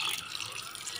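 Water poured over freshly sown seeds in soil gives a steady, soft splashing trickle that lasts the whole second at an even, moderate level, with no voices.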